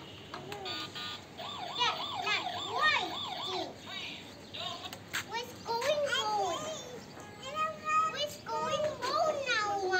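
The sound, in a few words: toy police car siren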